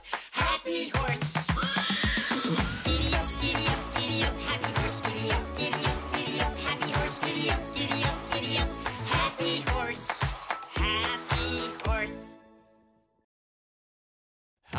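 A horse neighs and whinnies over a bouncy children's song with a steady beat, the music ending abruptly near the close.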